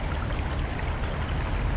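Water flows in a continuous, even rushing hiss at moderate distance, with no pauses and no voices.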